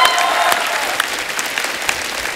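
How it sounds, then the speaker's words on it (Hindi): Studio audience on a Hindi comedy talk show breaks into loud, dense applause, many hands clapping steadily for a couple of seconds, close and sustained. "तालियां"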